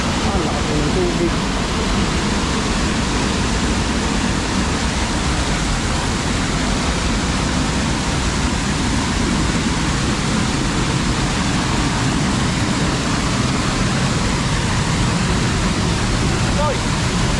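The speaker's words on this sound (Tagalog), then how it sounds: "Ah, lakas ng tubig." Powerful rushing water from a waterfall pours continuously at close range, a loud, unbroken roar that holds steady throughout.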